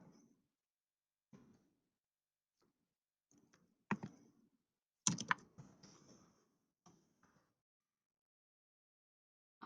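Computer keyboard typing in sparse, irregular bursts of clicks, close and fairly quiet, with long silent gaps between them.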